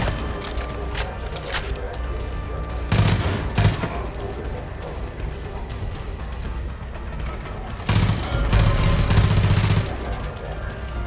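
Bursts of rapid automatic gunfire in the video game Far Cry 5 rattle loudly over a constant mechanical background drone, with two heavier volleys standing out.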